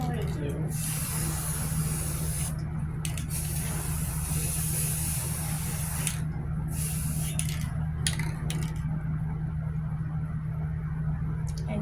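An aerosol spray can hisses in several bursts of varying length, spraying paint onto a frame, over a steady low electrical hum in an indoor setting.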